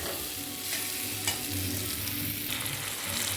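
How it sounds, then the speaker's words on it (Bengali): Onion with ginger-garlic paste fries in a pan in a home kitchen, a moderate steady sizzle broken by scraping stirs of a spatula, no voices. "আদা রসুন আর পেঁয়াজ দিয়ে একটু ভালোভাবে কষি"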